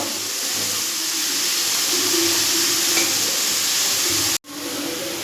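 Food frying lightly in a pan with salt during Bengali home cooking, a steady, close, loud sizzle and hiss running throughout before a sudden brief cut near the end.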